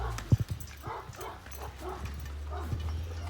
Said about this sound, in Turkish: Tam çoban köpeği.